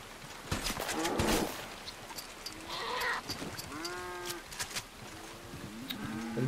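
Cattle moo several times in the Red Dead Online video game. The long, drawn-out calls come at varied pitches over soft ambient game sounds, and a few sharper bleat-like cries are mixed in.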